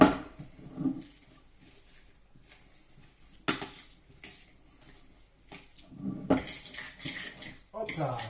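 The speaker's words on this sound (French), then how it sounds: "le principe, c'est de prendre dans la fourchette et de bien écraser" Guacamole ingredients are mashed with a fork in a bowl, giving close, repeated scraping and clinking bursts against the dish with quieter pauses between strokes.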